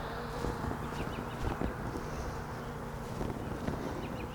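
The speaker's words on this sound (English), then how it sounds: "I can see that there are bees surrounding it" Honeybees buzz steadily around a queen cage at an open hive, a dense, close hum with faint wind noise and no talking.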